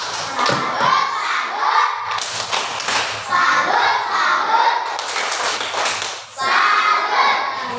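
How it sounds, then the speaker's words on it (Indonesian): Schoolchildren in a classroom perform the tepuk salut clapping chant together, bursts of rhythmic group clapping and thumps with children's voices chanting along, loud and close, in several phrases with short pauses between. "Kita tepuk salut."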